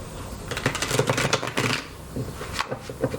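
Tarot cards are shuffled by hand in quick riffling bursts, a close, crisp series of papery flutters and taps with short pauses between them.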